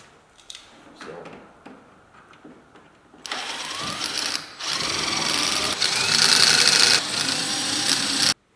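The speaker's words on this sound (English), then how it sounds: "I'm going to use a 1/8 drill bit to drill my holes." After a few quiet taps, a drill with a 1/8-inch bit whines loudly in several sustained bursts with short pauses between, close by, drilling holes in aluminum fascia.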